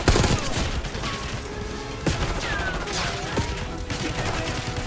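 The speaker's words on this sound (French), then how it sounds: "Tu tires en l'air, moi je tire dessus." Gunfire from the video game Call of Duty Black Ops 6, a dense fusillade of shots with several sharp cracks standing out over a steady battle din, with speech faintly underneath.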